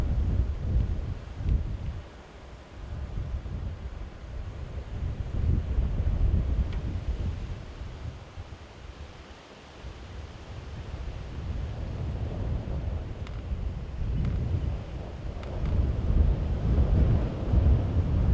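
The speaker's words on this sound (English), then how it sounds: "There's a lot of wind at the moment, folks, where we are in this open area." Strong wind gusting across an open area during a morning safari drive at Djuma and Arathusa, buffeting the microphone with low rumbling roar that swells and eases in waves, no voices.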